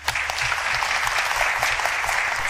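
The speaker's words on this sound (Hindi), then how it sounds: "सभी लोग उनके लिए तालियां बजाइए" Audience applause for a child performer dressed as Bhagat Singh at a Republic Day freedom-fighter show, a full, continuous burst of clapping from a crowd, steady and lively for the whole stretch.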